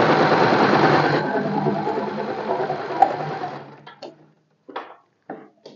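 A sewing machine stitches tucks on a blouse in a continuous, close whirring run that slows and stops after about four seconds, followed by a few short bursts of stitching.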